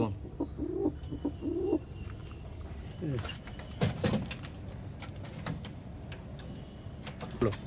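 Pigeons in a loft coo softly in short low phrases, with clatter and people talking nearby.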